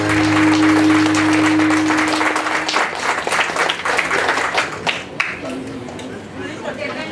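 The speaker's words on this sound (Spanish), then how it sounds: "Un fuerte aplauso." Loud applause from an audience at a waltz performance in Oaxaca, dense clapping that fades toward the end, with crowd chatter and a steady tone underneath.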